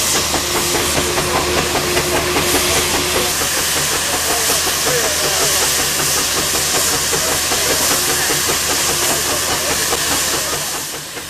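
The steam traction engine Hercules works hard on a belt dynamometer at a steam and tractor rally, giving a loud, continuous hissing and chuffing roar with steady mechanical rhythm that holds throughout, close by.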